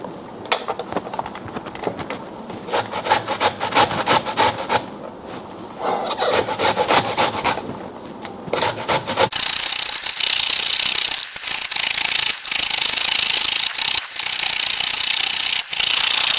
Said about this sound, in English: after grating, you'll end up with this much cauliflower